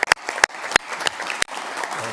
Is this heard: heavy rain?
no